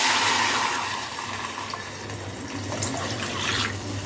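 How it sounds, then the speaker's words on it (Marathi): Water poured into a pan of Maggi noodles with a little turmeric, a steady continuous rush that stays loud and close throughout with no talking. "नंतर मग पाणी ओतून घ्यायचं."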